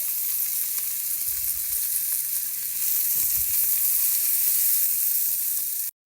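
Mushrooms and mixed vegetables frying in a pan with spice, a steady close hissing sizzle throughout, with faint stirring bumps, cutting off abruptly at the end.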